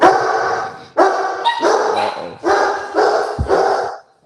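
Dogs barking indoors, a loud, close series of about five sustained bursts of barking and yipping with short gaps between them.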